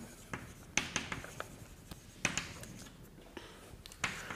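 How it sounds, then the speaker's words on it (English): Chalk strikes and scrapes across a lecture hall board as equations are written during a physics lecture: irregular sharp taps and short scratchy strokes, fairly quiet, with no speech. "So let us just write this down."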